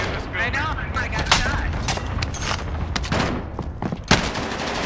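Gunfire in Call of Duty on Rebirth Island, sharp repeated shots and bursts at close range with a few loud cracks standing out, while a voice talks over the firing.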